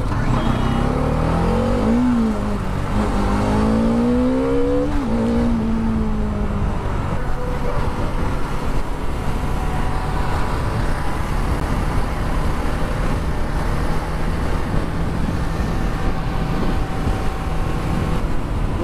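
A Bajaj Dominar 400 motorcycle rides out on the road from Kolkata toward Dalma forest, its engine rising in pitch through the first gears before settling into steady, loud road and wind roar.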